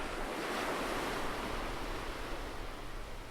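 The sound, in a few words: ocean waves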